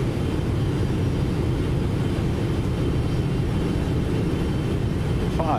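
Airliner jet engines at about 40% thrust on approach in the X-Plane 12 flight simulator, flying MUHA to KFLL: a steady, loud broadband roar with low rumble, continuous and unchanging throughout, with no talking.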